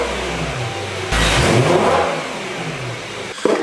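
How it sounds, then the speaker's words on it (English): A BMW E9X M3 V8 with the stock intake idles, then blips into a sharp rev that holds briefly before falling back to a steady idle, with a smaller blip at the end, heard up close with no talking. "So these are just some basic revs with the stock intake setup."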